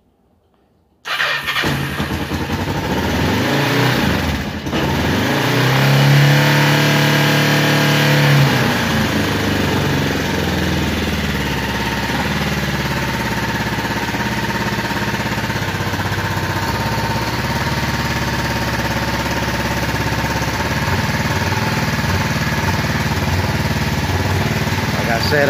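Kawasaki Ninja 500R engine fitted in a dune buggy, cranking and catching in a garage, then settling into a loud, steady idle with some revving that carries on to the end of the clip.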